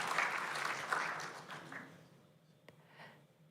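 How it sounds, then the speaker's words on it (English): Audience applause after an author talk on a new memoir, a dense patter of clapping that starts full and steadily thins out and fades within a few seconds, moderately distant in an indoor room. "You can clap."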